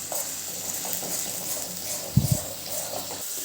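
Tomato puree sautés in a pan with a steady soft sizzle and hiss, broken by a brief clatter of stirring near the middle.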